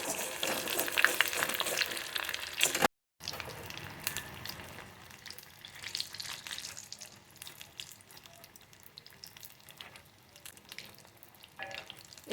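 Prawn cutlets sizzle steadily in hot mustard oil, a dense close frying hiss that drops out briefly near the start and then continues with soft crackles and spits.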